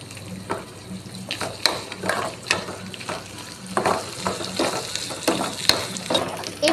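Shallots and a few dried red chilies fry in hot oil with a steady close sizzle, broken by repeated scraping stirs of a spoon against the pan, no voices.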